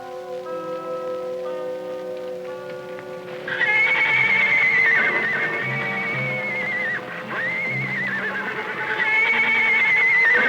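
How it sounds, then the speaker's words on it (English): Indian ponies in a ranch corral, neighing in long, loud whinnies repeated several times over a soft steady background tone. "Some Indian ponies in the corral."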